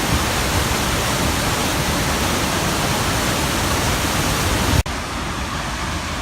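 Waterfall at Farmington Creek, Utah, a loud, steady, close roar of heavy falling water that fills the scene and stays unbroken, with one sudden dip where the sound drops slightly.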